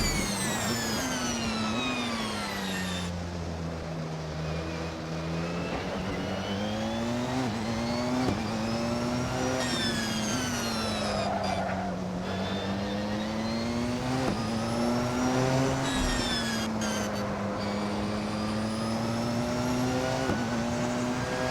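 A Porsche 919 hybrid race car in Assetto Corsa howls through a flying hot lap, its engine note rising and falling with repeated gear changes and braking dips, loud and close, with no voices over it.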